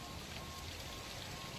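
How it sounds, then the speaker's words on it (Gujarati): Steady rain falls in Bhavnagar, a continuous even hiss of drops on surfaces with no breaks, moderately faint and heard alone. "ભાવનગરમાં 2 દિવસના વિરામ બાદ ફરીથી વરસાદનું આગમન થયું છે।"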